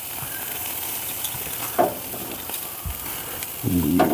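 Chicken thighs sizzle steadily on an Old Country BBQ Pits grill, a continuous hiss broken by a few sharp scrapes and clanks as the meat is flipped, with a louder burst of sizzling near the end.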